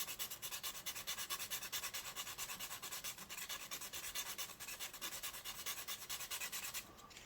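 Sandpaper rubbed steadily over the body of a handmade float for indoor freshwater fishing, a continuous close, dry rasping scrape in quick repeated strokes with no talk.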